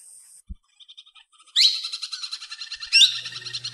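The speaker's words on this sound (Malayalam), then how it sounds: "ഇപ്പോൾ നിങ്ങൾ കണ്ടുകൊണ്ടിരിക്കുന്നത് മലബാർ പാരാക്യൂറ്റ് ആണ്, കാട്ടിലെ തത്തകളാണ്." Wild Malabar parakeets, grey-green forest parrots, give shrill chirping calls that start faint and sparse, then become a loud, close run of rapid repeated notes with a second burst near the end.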